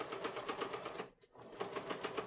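Domestic sewing machine running slowly while top stitching a coat collar, a quiet rapid rhythmic stitching that pauses briefly midway, then resumes.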